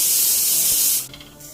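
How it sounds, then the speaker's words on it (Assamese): Chickpeas tossed with chopped ginger and green chillies into hot oil give a loud, steady spraying hiss that drops off sharply partway through, then continues more quietly. "এতিয়া মই বুটখিনি ভাজিব লৈছোঁ"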